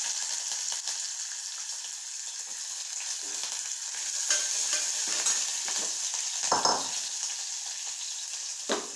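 Finely chopped onions sizzle steadily in hot sesame oil for mutton curry, with close, bright frying crackle and occasional stirring scrapes of a spoon in the pan.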